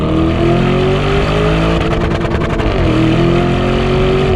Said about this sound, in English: I'm bouncing it off the rev limiter.